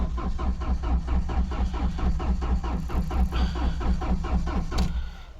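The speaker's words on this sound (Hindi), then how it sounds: "मैंने इसका लॉन्ग सेल्फ मारा और गाड़ी स्टार्ट नहीं हुआ" A Mahindra Scorpio CRDe diesel engine cranks at length without catching, the starter churning in an even, rapid rhythm of repeated compression pulses before cutting off near the end.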